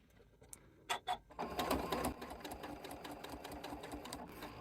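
A few quiet clicks come before a sewing machine starts up and runs a steady, fairly faint whirring line of stitches along the edge of cross stitch fabric, with no talking.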